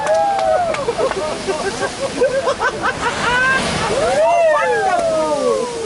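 Big ocean waves slosh and rush continuously beneath a cruise ship, loud and near, while excited voices exclaim over the surf.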